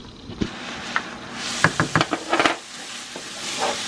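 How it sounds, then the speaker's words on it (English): Ketchup, hot sauce and tomato paste are stirred in a pan for a chili cheese dog casserole, with a low sizzle and a short cluster of spoon scrapes and clinks near the middle. "Give it a stir."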